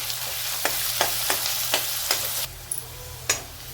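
Onions with salt sautéing in a pan, a steady close sizzle broken by regular spatula scrapes roughly every half second, quieter toward the end with a couple of sharper taps.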